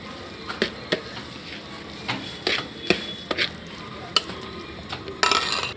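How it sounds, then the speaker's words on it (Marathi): A rava ladoo mixture is stirred in a pan, giving intermittent scraping clicks and light knocks against the metal at an uneven rhythm, close by with no voices. "आधेमध्ये लाडूचे मिश्रण हलवत राहावे."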